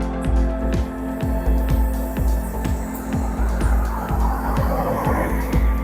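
A Mitsubishi L200 GL entry-level pickup truck pulls away with a close, steady engine drone and regular ticking pulses running throughout, with no talking.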